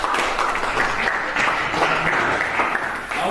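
A classroom group of teachers claps for a group's representative after a presentation, dense steady applause that fills the room throughout, with a few voices under it.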